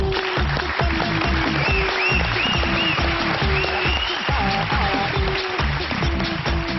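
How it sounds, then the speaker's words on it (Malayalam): An audience claps together after a short stage program by a VIP team, steady dense applause with a few voices and whistle-like tones rising over it. "ഇഷ്ടപ്പെട്ടെങ്കിൽ എല്ലാവരും ഒന്ന് കൈയടിക്കും."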